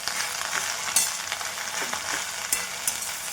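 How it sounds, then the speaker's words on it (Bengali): Pumpkin leaves fry in hot oil in a wok with a loud, constant sizzle, broken by a few sharp clinks and scrapes of a spatula stirring, close up with no talk. "কড়াই তেল দিয়ে শাকটা দিয়ে দিলাম।"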